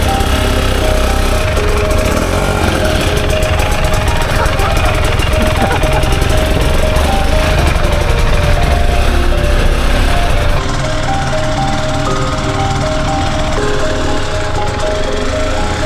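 A dirt bike engine runs loud and close on a muddy hillside trail, a rough continuous drone that holds steady for about ten seconds before its tone drops as the bike pulls away.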